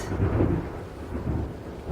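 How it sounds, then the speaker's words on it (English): Thunder from an approaching storm, a deep low rumble that swells and fades, with a second rolling surge near the end and no voices. "And I apologize about the thunder in the background."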